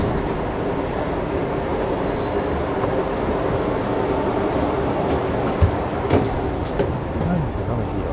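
Steady rumble of a train ride near Haarlem in the Netherlands, a continuous rolling roar of wheels and carriage noise with a few sharper clanks and knocks toward the end.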